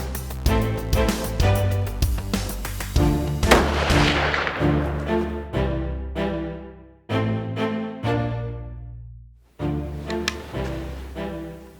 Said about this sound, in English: I'm about to take a shot.